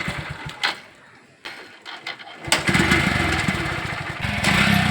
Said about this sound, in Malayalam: ബിനീഷ് ബൈക്ക് സ്റ്റാർട്ടാക്കാൻ പോവാണ്.